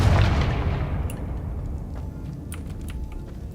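A Confringo explosive spell from Hogwarts Legacy booms loudly at the start and decays into a long rumbling tail, with faint crackles trailing off, no one talking.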